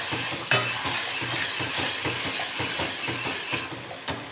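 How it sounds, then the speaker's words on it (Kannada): Spices sizzle and crackle in hot oil in an iron pan while being tempered for a bamboo shoot sambar, a steady close hiss broken by a few sharp spatters and stirring clicks, no voices. "ನೋಡಿ ಒಗ್ಗರಣೆ ಹಾಕ್ಕೊಂಡಿದ್ದೀವಿ."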